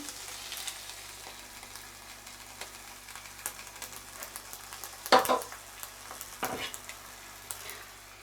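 Softened meat cooking in a pot with cooking oil just added, giving a faint, sparse sizzle with scattered crackles and a couple of louder stirring clatters midway.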